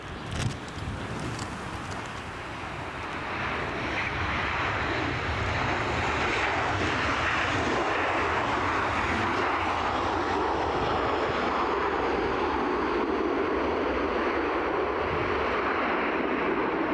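ATR turboprop aircraft at Edinburgh Airport, a loud broadband engine roar that rises in the first seconds and then holds steady and powerful throughout, with no talking.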